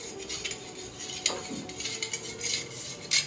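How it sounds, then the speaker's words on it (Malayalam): A spoon stirring lemon juice drink in a glass, with faint clinks and scraping strokes of metal against the glass, close by and intermittent, with no talk. "നന്നായി മിക്സ് ചെയ്യാം."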